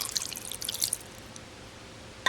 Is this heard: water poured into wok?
yes